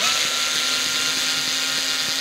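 A steady, high-pitched whine of a power drill boring into a Kallax shelf unit, running continuously at close range, with faint rhythmic ticks underneath and no voices.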